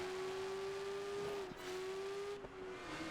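Radical SR9 race car with a quad exhaust in Project Gotham Racing 4, its engine holding a steady high drone close by with brief dips as gears shift, loud and continuous with no talk over it.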